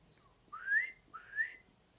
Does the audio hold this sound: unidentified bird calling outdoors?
yes